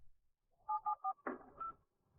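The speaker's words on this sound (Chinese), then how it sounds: "他趁人不注意拨通电话" Several short, clean electronic tones beep in quick succession as a telephone number is keyed in, followed by a brief rustle, in an otherwise quiet room.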